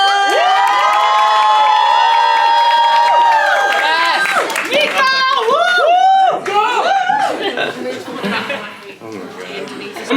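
A crowd at a small venue cheers, whoops and claps to welcome a singer-songwriter to the stage, loud and sustained, with shouts, laughter and chatter mixed into the din before it begins to thin out.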